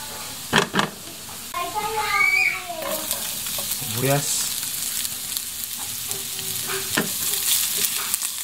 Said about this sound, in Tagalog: Ngayon ilalagay na po natin yung sibuyas.